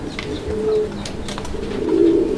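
A male Raj-Golla pigeon gives low, throaty coos that rise and fall in a rolling rhythm, close by amid a busy, noisy background.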